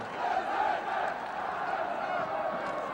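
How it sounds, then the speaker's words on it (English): A 1975 football crowd at a Luton match roars and chants as one, a dense continuous wall of voices heard from a distance in the stadium. "Crowd now getting behind Luton."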